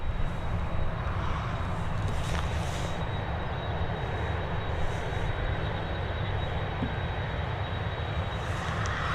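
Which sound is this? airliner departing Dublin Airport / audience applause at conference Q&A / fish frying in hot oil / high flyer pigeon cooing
airliner departing Dublin Airport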